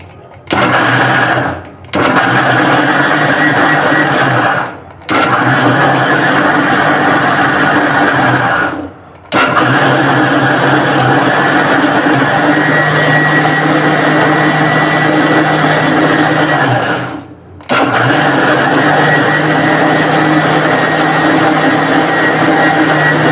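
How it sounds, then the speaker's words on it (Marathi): A mixer grinder grinding masala runs with a loud, steady, high-pitched whir. It stops briefly three times and then restarts, close and dominant. "आता मी मिक्सरला वाटून घेते"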